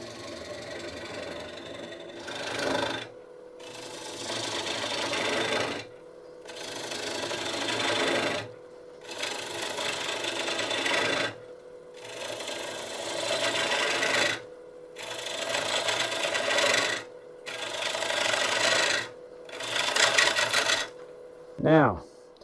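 A lathe gouge cuts a large green ash bowl in repeated rasping passes of a few seconds each, separated by brief pauses, with a short squeal at the end.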